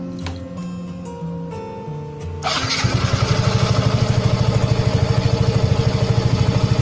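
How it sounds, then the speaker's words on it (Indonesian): Yamaha Mio M3 scooter engine cranks and fires up during home servicing, then settles into a loud, steady, rapid putter of idling close by. "Oke, sekarang kita hidupkan."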